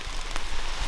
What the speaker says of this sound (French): Je sais pas si vous entendez la pluie qui tombe.